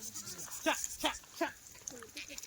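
Kathiawadi sheep and goats loaded on a livestock truck give several short, wavering bleats in quick succession, fairly close, with people talking around them.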